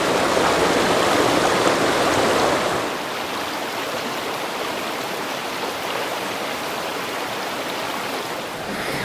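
A waterfall at Tangier Grand Lake roars as a steady, broadband rush of falling water, louder for the first few seconds and then settling into a slightly softer continuous wash with no voices.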